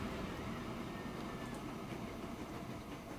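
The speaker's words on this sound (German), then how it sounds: "Mal sehen, ob die Bahn überhaupt 100 schafft." A freight train runs along a line in the Transport Fever video game, a faint, steady rolling rumble of rail wagons with no voices over it.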